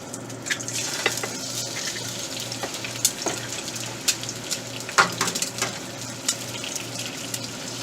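Three eggs fry in coconut oil for a keto breakfast, giving a continuous close sizzle broken by small pops and light clinks of a utensil against the pan.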